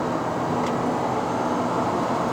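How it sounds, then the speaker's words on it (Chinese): A 2021 Nissan Almera 1.0 Turbo VLT with a CVT accelerates at part throttle above 3000 rpm in Malaysia; a steady whine sits beneath loud, continuous engine and road roar heard from inside the cabin. "那个声音应该没有错的话，就是 CVT 传出来的声音。"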